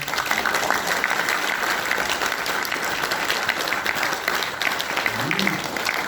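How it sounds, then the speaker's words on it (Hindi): Sustained applause from an audience at a business seminar, a dense and steady wash of clapping that fills the whole stretch at an even, moderately loud level. "तो ताली बजा सकते हैं।"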